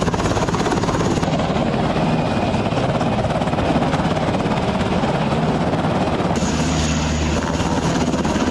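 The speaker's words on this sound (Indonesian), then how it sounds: "Tentara IDF yang cedera dievakuasi secara cepat menggunakan helikopter" A helicopter evacuating injured IDF soldiers, its rotor and engine roaring loud and steady throughout with no pause.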